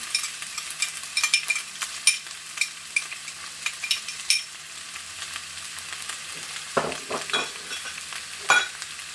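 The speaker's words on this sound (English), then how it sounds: "I'm just going to keep stirring it so that it cook it for a little while" Carrots, peas and sweet corn sizzle in a pan while a utensil stirs them, giving repeated scraping strokes in an irregular rhythm over a soft, continuous frying hiss.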